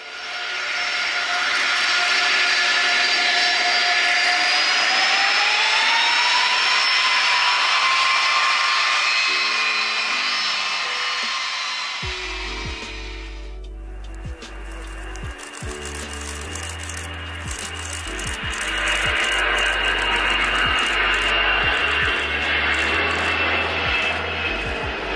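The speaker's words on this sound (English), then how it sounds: "The engines on these make such a unique sound. There's like this high whistling noise they kind of make." Aircraft engines emit a loud, sustained high whistle with rising tonal lines during takeoff, fading about halfway before a broad rumbling roar with low thumping takes over.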